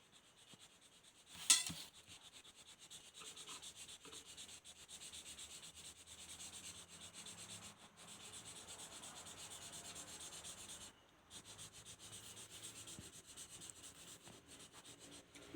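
A pencil or crayon colours in a drawing of an ice cream stick with faint, steady scratchy rubbing strokes, close and continuous, with one brief louder scrape near the start.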